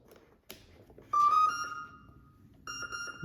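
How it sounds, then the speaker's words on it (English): Two electronic beeps from an ESC during calibration with a FrSky X20S and Spektrum receiver, the first a sustained tone and the second a short pulsing one after a pause, over faint background noise. "you're going to hear 2 beeps"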